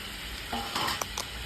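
Chicken and potatoes fry in a pan, with a steady close sizzle and a few sharp scrapes and clinks of stirring.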